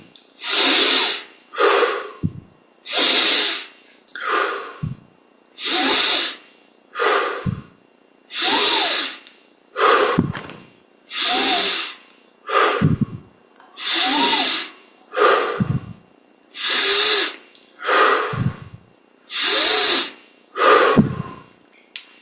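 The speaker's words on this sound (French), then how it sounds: "On prend 20 grandes respirations." Slow, deep breaths during a Yogoda meditation exercise: about ten loud, close inhale-exhale cycles, each a long rushing breath separated by brief pauses, in an otherwise quiet room.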